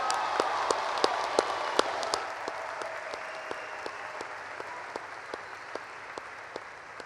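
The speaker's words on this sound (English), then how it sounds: "Let's give them a big hand." A graduation commencement audience at Northern Illinois University applauds steadily in a large hall, a dense sustained wash of clapping with a few sharper individual claps standing out.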